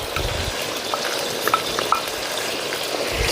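Coriander curry paste fries in a pot over a wood-fired stove with a constant crackling sizzle, punctuated by a few small pops and clicks.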